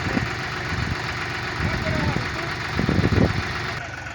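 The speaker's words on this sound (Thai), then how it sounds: "นี่นะครับเป็นการสอนขับแทรกเตอร์นะครับ" A John Deere 5055E 55-horsepower tractor engine idles with a steady, loud diesel rumble and throb, close by and continuous throughout.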